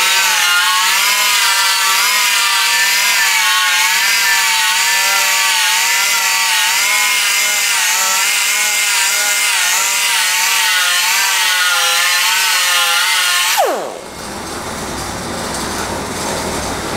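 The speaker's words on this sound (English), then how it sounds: "So now I'm gonna hit it with this strip disc just to get all that shininess" Strip disc on an angle grinder taking weld shine off metal, a loud, steady whining grind with a wavering pitch that runs long, then winds down abruptly near the end.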